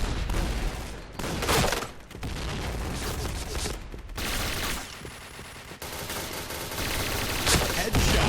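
An MP9 submachine gun in PUBG fires rapid, dense bursts, loud and close, broken by short pauses between strings of shots, with no talk over them.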